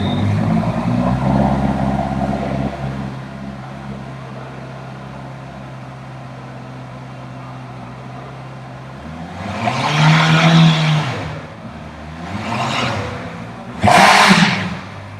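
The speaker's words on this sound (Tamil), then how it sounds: "ஸோ ஸோ வண்டியோட ரெவ்ஸ் கேட்கும்போதே வந்து நம்ம ஃபீல் பண்ணியிருந்திருப்போம்." 2025 Honda CBR650R with E-Clutch and an inline-four engine, idling smoothly before three sharp throttle blips rise and fall in quick succession, loud and close with no talking.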